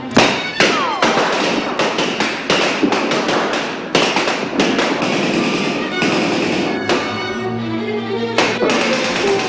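Rapid gunfire in a science-fiction TV series battle scene, a dense run of loud, sharp shots and bursts firing in quick succession with little pause.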